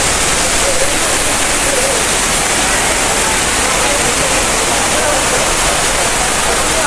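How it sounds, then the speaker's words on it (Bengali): A waterfall on a Purulia outing roars constantly from above, a dense, loud, unbroken rush of falling water close by. "উপর থেকে জলটা পড়ছে।"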